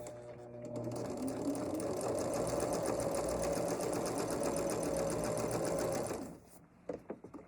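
A sewing machine stitches fabric for a table runner flower in a steady, fast mechanical whir at close range for about six seconds, then stops, leaving a few soft handling clicks.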